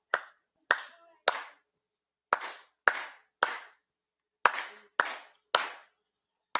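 Sharp single hand claps, about ten of them, beating a measured rhythm with brief pauses between groups during a Hawaiian chant, close and crisp against silence.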